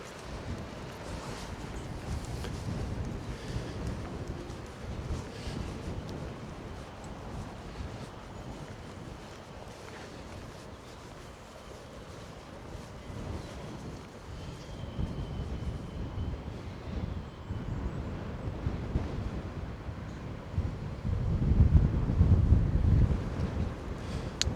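Outdoor wind buffets the microphone continuously, a steady low rumbling gust that swells louder toward the end with no talking.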